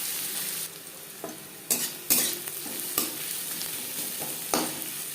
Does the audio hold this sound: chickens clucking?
no